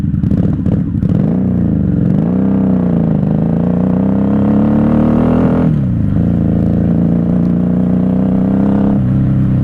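A 1994 Honda Magna VF750C V4 motorcycle engine idles steadily up close, its low harmonic drone wavering slightly in pitch with brief dips, loud and continuous with no talk.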